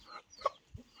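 A couple of quick, soft clucks from chickens in a coop, brief and fairly close, with near silence between them.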